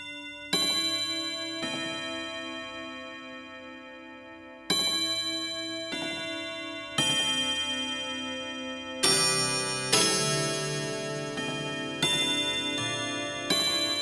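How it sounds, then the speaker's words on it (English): A Clocks sound design instrument playing clock-like tones: bright struck, chiming notes ring out and decay, entering in irregular clusters with no talking over them. "There's clock-like sounds, so you can hear what's going on there."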